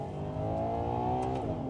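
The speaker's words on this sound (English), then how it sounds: "Rapid downshift, and it just sounds" A high-revving naturally aspirated Ferrari V12 engine roars steadily up close, its harsh tone shifting pitch as it blips through a rapid downshift.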